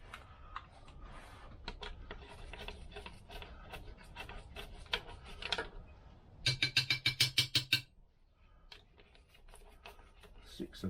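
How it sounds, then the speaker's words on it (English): Screwdriver attachment driving screws on a Lambretta scooter during a big block upgrade, heard as soft scraping and clicking that ends in a burst of rapid rhythmic ratcheting pulses, close and fairly faint. "we'll put our screwdriver attachment on again"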